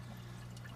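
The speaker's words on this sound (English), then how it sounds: "the water flows from the tank" Water flowing from a freshwater aquarium tank into a sump bucket filled with filter media, a steady continuous pour with a low hum from the pump underneath, heard alone.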